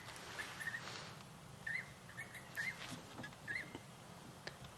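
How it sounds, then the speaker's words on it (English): Jacobin cuckoos give short, repeated chirping calls at dusk in the African wild, faint and somewhat distant, with about five brief bursts spread across a soft outdoor background. "I'm listening to the Jacobin cuckoos as they taunt me."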